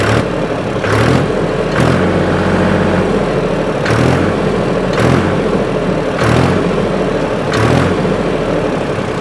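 A Mahindra 275 DI tractor's diesel engine idles steadily up close at about 700–800 rpm, its low rumble punctuated by several brief revs that rise and fall at regular intervals.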